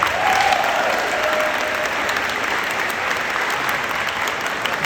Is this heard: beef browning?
no